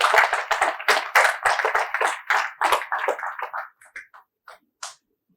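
An audience claps in warm applause to welcome a guest onto the stage at a Gujarati literary lecture event, dense and loud at first, then thinning to a few scattered claps before fading out.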